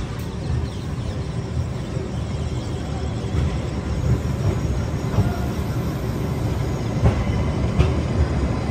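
A goods train rolls past the platform at Agra station with a steady, broad rumble and faint clanks of wagons, continuous for the whole stretch with no talk.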